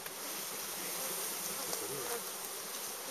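Honeybees buzzing thickly around an open hive at a teaching apiary in spring, a dense, close, continuous hum with individual bees droning past, no talking.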